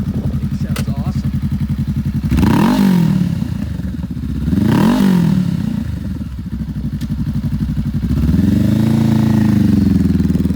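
A used Honda Rebel 500 bobbed cruiser with ABS idles with a steady loud rumble, then revs up and settles back three times, heard close up at a dealership.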